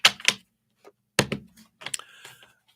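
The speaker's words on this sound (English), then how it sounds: "Let's shuffle these up." A deck of cards is shuffled in three quick, crisp, fluttering bursts with short silences between them, close and fairly loud.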